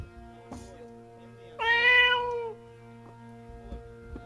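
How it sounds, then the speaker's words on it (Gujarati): A wild jungle cat gives one clear, drawn-out meow lasting about a second, near and fairly loud over a steady low background hum, with faint soft sounds before and after. "જંગલી બિલાડો"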